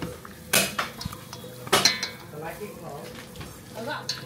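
Food with fresh herbs tossed and mixed in a bowl, with a few sharp clinks of utensil against dish and softer scraping, close by, with faint voices in the background.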